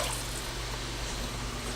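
Chicken stock poured into a soup pot for French onion soup, a steady liquid trickle and splash running continuously and close by, with no talking.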